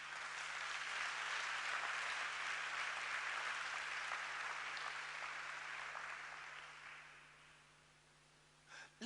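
A church congregation at a solemn convocation service applauds loudly and steadily, then the clapping fades away toward the end.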